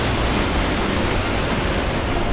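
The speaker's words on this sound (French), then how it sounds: "On est au bassin Fouquet avec la petite cascade" A small waterfall at Bassin Fouquet in the Cirque de Cilaos pours steadily, a close, even broadband rush of falling water with no other sounds.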